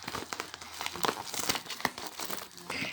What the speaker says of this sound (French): J'ai reçu une petite enveloppe ce matin qu'on va ouvrir ensemble.